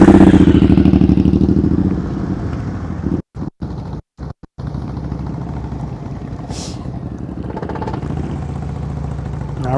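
Motorcycle engine idling and pulling at low speed through slow left and right practice turns, a loud steady rumble close to the microphone with wind buffeting and a few brief dropouts.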